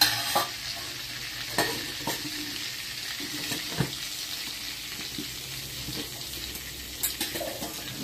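Cumin seeds sizzling in oil and butter for pav bhaji, a steady soft crackle with occasional spoon stirs and taps against the pan, close and moderately quiet, no talking.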